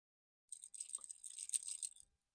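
Small dangling earrings on a Pirates of the Caribbean pin jiggle and clink against each other, a faint, fine jingling that lasts about a second and a half in an otherwise silent room.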